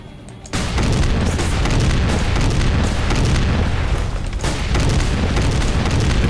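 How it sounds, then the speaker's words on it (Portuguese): A tank cannon shot in the video game Snowbreak: a loud, sharp blast strikes just after a half-second hush, then a heavy rumbling roar that stays near and sustained to the end. "Tiro de tanque, cara!"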